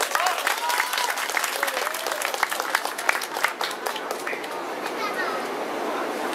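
An audience at a Lau Gar Kuen kung fu demonstration claps in dense, continuous applause that slowly thins out, with voices calling and chattering over it.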